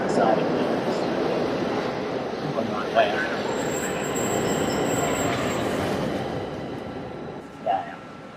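A train rolls past in the video game The Darkness, giving a steady rumbling rattle throughout with a brief squeal near the end and speech-like sounds over it.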